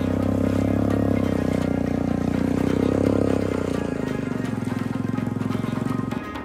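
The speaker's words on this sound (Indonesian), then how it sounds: "motor melaju di atas tanah yang keras" Motorcycle riding over a hard dirt road through forest, a steady droning engine with constant road rumble, close and fairly loud, easing slightly toward the end.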